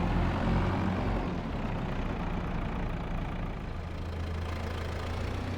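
Tractor engine in Farming Simulator running at a steady idle, a continuous low rumble with a faint knocking texture, alone with no voices.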